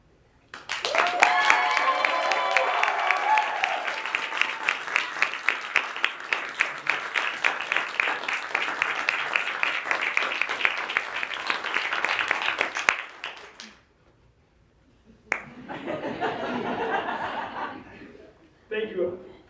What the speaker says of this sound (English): I would now like to invite up everybody who gave their speech today for one last round of applause.